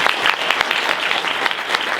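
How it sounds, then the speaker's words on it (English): An audience at a construction industry club event breaks into steady, dense applause, many hands clapping together close by for a couple of seconds. "Let's give them a round of applause."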